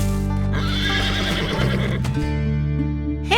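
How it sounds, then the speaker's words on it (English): Mare calling near her young foal on a farm: a loud, close, tonal horse vocalization that rises and falls for a few seconds, sounding more like a whinny than a soft snort. "Mama mares talk to baby foals through soft sounds called snorts."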